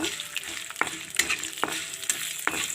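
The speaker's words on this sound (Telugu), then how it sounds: "వాము మినపప్పు ఎండుమిర్చి కరివేపాకు అండి అలా వాము దోరగా వచ్చే వరకు ఈ తాలింపు అంతా వేగే వరకు" Ajwain, urad dal, dried red chillies and curry leaves fry in a kadai of hot oil for a tempering, giving a close, dense sizzle with crisp pops and spatters.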